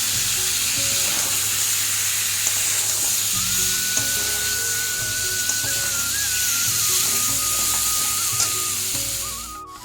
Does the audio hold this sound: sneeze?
no